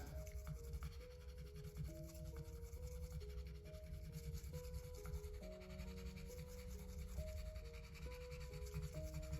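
A straight razor is honed back and forth on a sharpening stone, making soft, rhythmic rubbing strokes that stay faint under a layer of background music.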